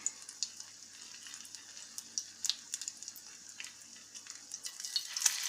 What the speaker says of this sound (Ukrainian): І формуємо так всі гречаники і обжарюємо з обох боків